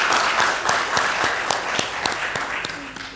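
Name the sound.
audience applause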